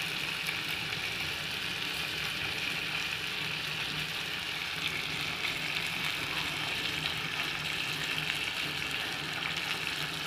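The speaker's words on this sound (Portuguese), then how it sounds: "Fritando aqui o figozinho" Figs frying in a pan on a small stove give a steady, dense sizzle that holds at an even level throughout, with no voices over it.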